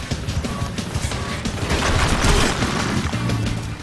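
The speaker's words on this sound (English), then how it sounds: "This is the perfect time to test the grenade launcher." Grenade launcher blasts in the game NeverDead, a dense run of booming shots and crashing impacts that swells into a louder cluster midway, with scattered debris and mechanical clatter.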